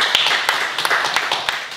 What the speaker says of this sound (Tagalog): Palakpakan po natin.